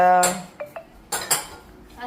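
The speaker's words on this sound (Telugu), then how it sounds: "దీని మీద ఒక మూత పెట్టేస్తా" Several clinks and knocks of kitchenware, a couple of sharp ringing hits and lighter taps, close by, as a lid is set on a dish.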